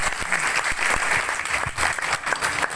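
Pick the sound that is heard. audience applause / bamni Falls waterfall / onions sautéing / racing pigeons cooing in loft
audience applause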